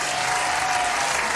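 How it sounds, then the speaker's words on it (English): Audience applause for a guest named DaMarqus at a live show, a dense, steady clapping wash filling the moment without a break, loud and close. "let's give our brother DaMarqus just a round"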